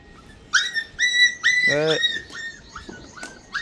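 Puppies whine and whimper in a series of high, thin cries, close and fairly loud, with brief pauses between the bursts.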